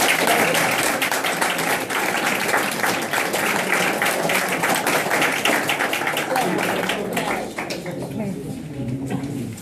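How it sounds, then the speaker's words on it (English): Audience applause at an award ceremony honouring students, a dense steady clapping from a crowd indoors that continues throughout and thins slightly toward the end. "I would like you to give an applause to those guys."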